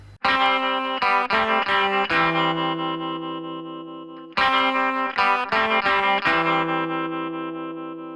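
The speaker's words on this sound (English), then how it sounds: "It's such a clever part when you put both guitars together" Two layered electric guitars from a song, one chiming with vibrato or tremolo against a steady single-note line, repeating a short phrase twice, loud and close.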